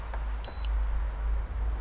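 Spa control panel buttons give a short pair of thin electronic beeps, faint under a steady low hum from the spa equipment.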